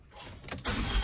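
Car engine with a raspy exhaust after catalytic converter removal turns over and catches, rising from quiet into a rough, close rumble in about a second.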